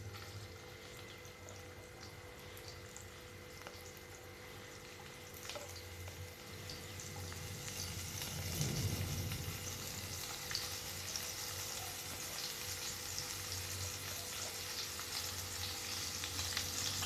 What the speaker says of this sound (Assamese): এতিয়া মই ডিমখিনি ফ্ৰাই কৰি ল'ম।